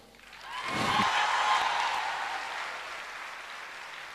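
Audience applause at a management conclave, building into a full, sustained round of clapping from a large crowd that stays steady and slowly eases off, with no talk over it.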